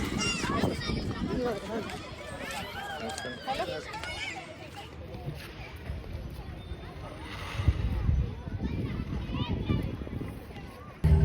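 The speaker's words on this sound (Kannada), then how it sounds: "ಬೋಟ್ ರೈಡಿಗೆ ಹೊಂಟೇವಿ ಮಮ್ಮಿ ಜೊತೆ." A boat ride on river water at Ulavi, with faint engine and splashing sounds running beneath almost constant nearby chatter, including children's voices and a busy babble of people aboard.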